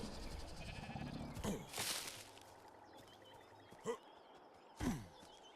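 A goat or sheep bleats a few times in ARK Survival Ascended on the Aberration map, short nasal calls spaced apart, mixed with scattered footsteps and soft ambient noise.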